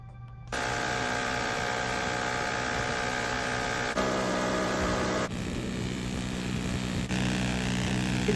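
A minigun fires in a long continuous burst, a loud, sustained buzzing roar that holds for about eight seconds, with a few abrupt shifts in tone and no speech.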